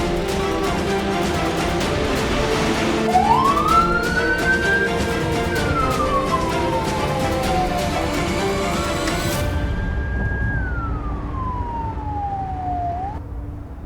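An ambulance siren wails loudly, its pitch sweeping up, holding and sliding down in two long cycles over a steady background rumble, with no voices.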